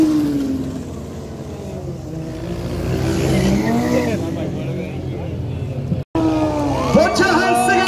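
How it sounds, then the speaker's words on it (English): A car performs wheelies at a large drift event in Trinidad, its engine note rising and falling amid a noisy crowd, with an announcer talking loudly over it and a brief dropout near the end. "we here see him doing his wheelies"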